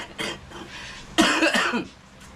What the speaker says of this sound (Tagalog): Kami naman dito, puro inuubo.